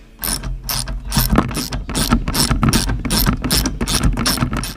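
Rapid ratchet clicking in repeated bursts as a bolt is loosened from a go-kart motor mounting bracket, close and loud with steady rhythmic strokes.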